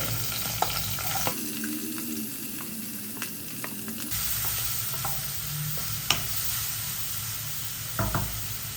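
Onions sizzle and hiss loudly in hot oil, with occasional clinks and stirring scrapes of a utensil against the pan.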